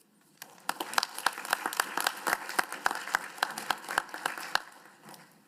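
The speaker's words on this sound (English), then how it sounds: "Let's give another round of applause to all of our speakers." An audience at a digital humanities forum claps for a round of lightning talk speakers, a sustained burst of many hands at moderate distance that swells, holds for several seconds and tapers off.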